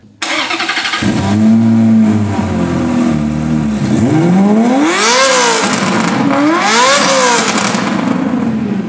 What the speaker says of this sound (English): 6-speed manual, real V8, F1 soundtrack